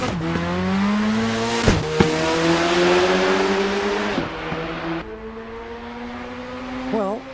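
A race car in Assetto Corsa EVO revs hard, with a loud engine whine that rises and drops through gear changes and brief tire squeal, close and continuous for several seconds.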